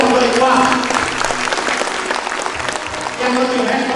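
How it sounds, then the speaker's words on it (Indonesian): Loud audience applause fills a parenting seminar room, a dense crackle of many hands clapping continuously at close range. "tapi lebih dulu tepuk tangan yang sangat meriah untuk Iqbal."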